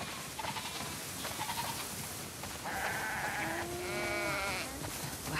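Several sheep bleat in turn in The Last of Us Part 2, wavering cries overlapping one another against a soft, noisy background.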